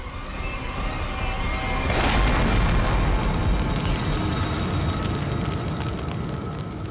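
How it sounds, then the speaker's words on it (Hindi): A bomb blast in a TV crime drama: a loud broadband burst around two seconds in that spreads wide, then a sustained rumbling roar that fades slowly, with no one speaking. "डायनामाइट बम से अलग करेंगे तो बम फट जाएगा"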